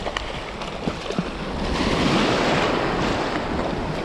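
Ocean surf waves wash onto a spring beach during surf fishing, a loud continuous roar of breaking water with gusty wind noise that swells in the middle.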